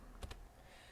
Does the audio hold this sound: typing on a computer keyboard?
yes